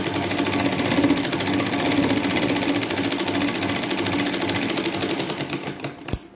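A sewing machine runs a steady, fast, even stitch through layered fabric for a lined katori blouse, close and loud, slowing and stopping near the end.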